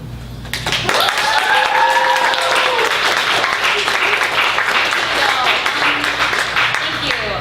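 Dense, steady applause from a bookstore audience following a poetry reading at a book launch, sustained evenly for several seconds with some voices underneath.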